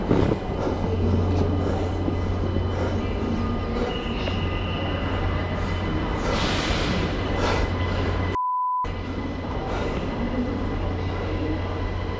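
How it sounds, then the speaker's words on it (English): Continuous loud rumble of a train running close by, with steady rail noise and a brief electronic tone partway through. "Oh, it's a train here."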